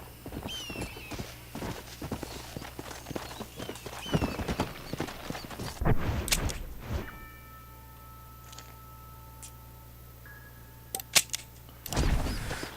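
Horse hooves clip-clop in the Red Dead Redemption video game, a steady walking patter of close, moderate hoofbeats over quiet ambience, pausing briefly midway before resuming toward the end.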